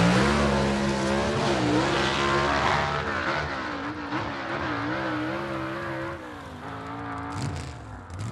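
A gasser drag race car sits in pre-stage at a drag strip, its engine held at high, rough revs with warbling rises and dips in pitch, loud and close, running alone without talk.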